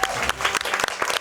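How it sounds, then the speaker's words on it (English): A brief, loud burst of crowd applause at a charity speedrunning event, following a LEGO Star Wars GBA run, thick and continuous with a few sharper claps standing out. "Let's give him one last round of applause."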